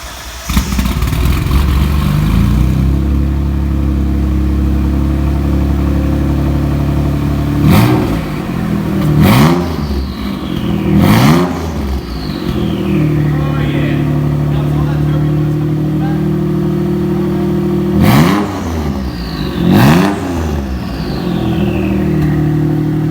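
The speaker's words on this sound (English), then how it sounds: "We're starting my car." A car with a straight-pipe exhaust and no rear bumper starts and settles into a loud, rumbling idle, then gets several sharp revs that rise and fall, some closely spaced, right next to the listener.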